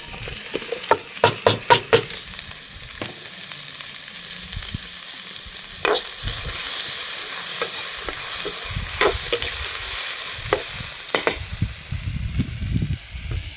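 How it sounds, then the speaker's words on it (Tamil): Dried chillies and chopped onions sizzle in oil in a pan as a spoon stirs them, giving close scraping clanks over a steady crackling fry, with no voices. "அப்படியே காஞ்ச மிளகாவும் போட்டுக்கலாம்."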